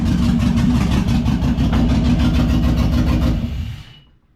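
A 1948 Dodge fitted with a Chevy engine idling close up, a steady loud low rumble with even rhythmic pulsing that holds for a few seconds and then fades out as it shuts off.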